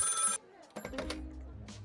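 A telephone rings in the Lil Guardsman game: one bright electronic ring burst, then a short gap and a voice speaking over faint low tones.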